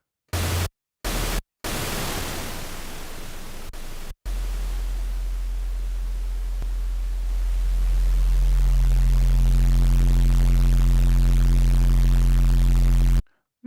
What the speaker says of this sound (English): we're gonna send a sine wave into some white noise